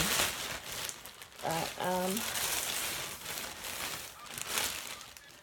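Paper crinkles and rustles as it is handled, a soft, steady crumpling texture with a short burst of speech partway through.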